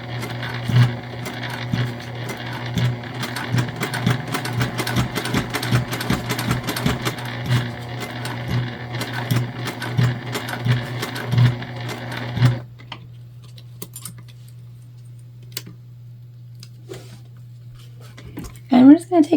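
A sewing machine stitching a gift bag around a curve, a rapid steady motor whir with stitch pulses for about twelve seconds before stopping, leaving a low hum and a few soft handling clicks.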